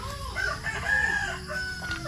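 A pet rooster crows once, loud and fairly close, in a drawn-out call lasting about two seconds against faint background noise.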